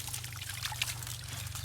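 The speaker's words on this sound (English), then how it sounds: "Put some water." Water pours and trickles steadily while a big sand-hauling dump truck is washed, a soft continuous splashing stream over a low hum, with no talking.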